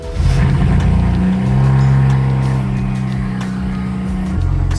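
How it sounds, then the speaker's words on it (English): A car engine, its oxygen sensors just reset, cranks and catches, then settles into a loud, steady idle with a strong low hum close by; no voices. "we're going to go start the car"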